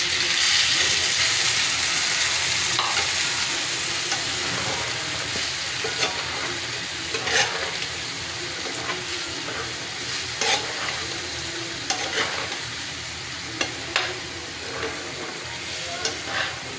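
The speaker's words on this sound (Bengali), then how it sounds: "ভালো করে কষিয়ে নেব।" Spices sautéing in a frying pan, a steady bright sizzle throughout with occasional spatula scrapes and taps, close and unvoiced.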